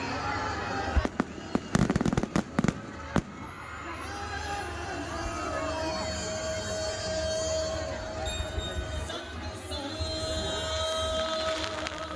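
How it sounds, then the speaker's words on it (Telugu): Fireworks show on day two of the Pakala beach festival: a burst of sharp crackling bangs early on, then a sustained hiss and whistle of rockets over a busy outdoor crowd with people talking. "Cracker show Pakala beach festival day 2."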